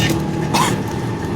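A single person coughs close up, a short rough burst with a throat-clearing quality, heard alone without talk, while riding in an auto-rickshaw.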